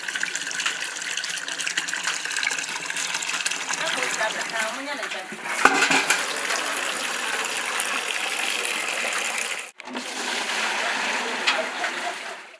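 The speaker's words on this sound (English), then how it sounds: "when you open it here, the water begins to flow outside" Purified drinking water gushing steadily from the tap of a plastic polytank, a continuous splashing flow that briefly cuts out and then resumes, heard close with no voices.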